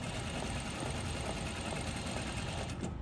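A sewing machine runs steadily while stitching a pocket welt, giving a close, continuous mechanical whirring hum with a fast, even stitch rhythm that carries on without pause and with no talking.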